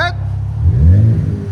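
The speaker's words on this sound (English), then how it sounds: "Give it gas." A 2025 RAM 1500 with the 3.0L Hurricane I6 and a Flowmaster Super 10 exhaust gives a short rev, a deep rumble rising and falling within a second, after a brief voice at the start.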